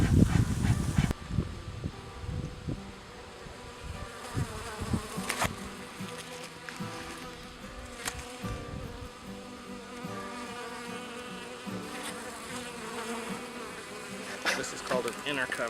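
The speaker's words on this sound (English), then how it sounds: "we also have some bees that I'm raising, hoping to get some honey" Honey bees buzzing around a backyard hive, a dense layered drone of many insects close by, with occasional louder individual buzzes passing near and a few clunks of handling.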